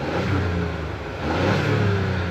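Idling 1.5-liter three-cylinder turbo engine of a 2025 Ford Bronco Sport Big Bend, heard up close with the hood open: a steady low-pitched drone with a faint turbo whistle, continuous and fairly loud throughout.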